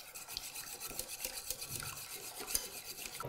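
Milk being stirred into béchamel sauce in a pan, a quiet, close whisking and scraping with light utensil taps, no voices.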